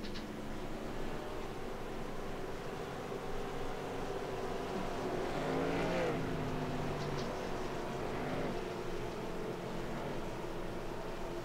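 A Ford FR500 pace car rolls off in the iRacing sim at Darlington, its engine a steady, moderate drone that swells briefly midway over a constant background hum.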